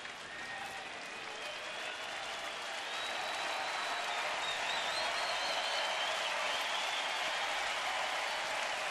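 Crowd at a Cincinnati Reds at Cleveland Indians baseball game applauding steadily, a broad wash of clapping and cheering that swells slightly and holds, no talk over it.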